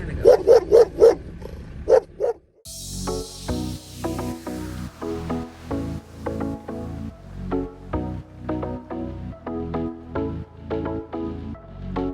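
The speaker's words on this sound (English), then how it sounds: "The dog didn't like us being there" A dog barks in a burst of several loud, close barks, then after a brief gap keeps up a steady run of rhythmic barking and yips along a street in Wichita Falls or Athens.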